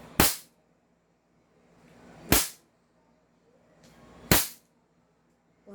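An airsoft gun firing through a chronograph: three sharp, loud cracks about two seconds apart, each snapping off quickly into near silence.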